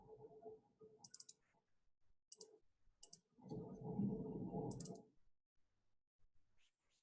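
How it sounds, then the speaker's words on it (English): A computer mouse gives a few sharp, faint clicks in a quiet room, close to the microphone, with brief soft talk between them. "Double click on it."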